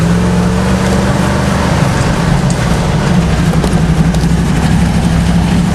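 A Chevrolet Blazer engine runs steadily, a loud, close, continuous low rumble with a constant hum and no pauses or voices.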